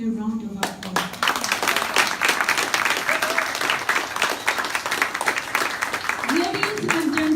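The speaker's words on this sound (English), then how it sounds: "Can we please give them a round of applause?" Guests at a Nigerian wedding clap together in a full, lively round of applause with some individual claps standing out, while voices talk and call out briefly at the start and near the end.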